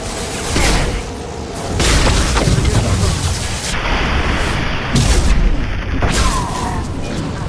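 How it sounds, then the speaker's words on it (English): Flashbang grenades go off during a firefight in the video game Mass Effect 2, with several loud, booming blasts and bursts like gunfire in quick succession. "Watch out, flashbangs!"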